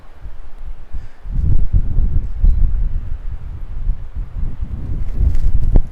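Strong wind gusts buffet the microphone at a cliff edge above Antalya, a loud, continuous low roar that swells and rushes throughout, with no voices.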